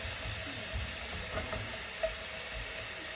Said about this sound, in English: Our mushrooms have been cooking away. Scraping up the bits off the bottom.